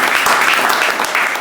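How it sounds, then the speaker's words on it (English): A short burst of dense crowd applause plays alone as an inserted effect, loud and steady throughout. "I'm going to insert some applause right there"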